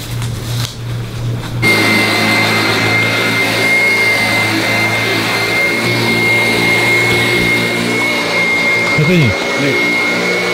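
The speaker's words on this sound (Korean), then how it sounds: "지금 청소기를 한번 보여드릴게요" A vacuum cleaner switches on and runs with a loud, steady motor whine and a high sustained tone, continuing throughout while a person speaks briefly over it.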